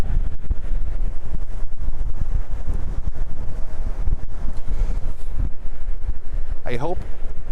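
Strong wind by the bay buffets the microphone in a constant loud rumble, with a brief chirp-like sound near the end.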